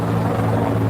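A helicopter flies overhead in Washington, D.C., during a presidential inauguration, a loud, steady rotor drone that fills the whole moment without any talk.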